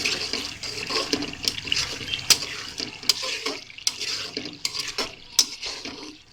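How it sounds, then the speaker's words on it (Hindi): Chana pulao stirred in a pot: a spoon scrapes and clinks against the metal in an uneven rhythm over a steady watery sizzle, close and fairly loud, with no talking. "और अच्छी तरह इसकी बुनाई कर लेंगे।"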